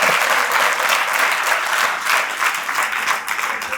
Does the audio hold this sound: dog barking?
no